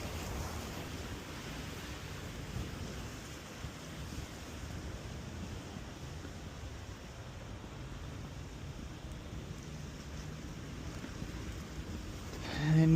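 Water of the Trent river flowing beside a canal, a steady broadband wash with wind buffeting the microphone throughout, rising sharply at the very end.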